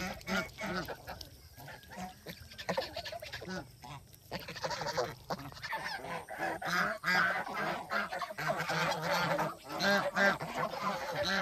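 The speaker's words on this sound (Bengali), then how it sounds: "এখানে হাঁস চলে এসছে অনেক।" A large flock of ducks on a village farm honks and quacks in dense overlapping calls, loud and close, continuing in waves throughout.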